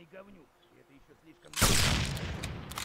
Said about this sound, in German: Ich versuch's jetzt mit der Granate.